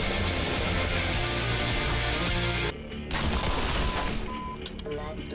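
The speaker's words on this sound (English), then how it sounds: "Who's shooting me?" Gunfire in the video game Black Mesa: a dense, continuous barrage of loud shots that drops away briefly midway, then picks up again with scattered impacts.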